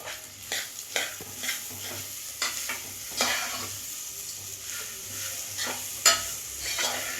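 Dry fruits and pumpkin seeds frying in ghee in a pan while being stirred, a soft continuous sizzle broken by repeated scraping clicks of the spoon against the vessel.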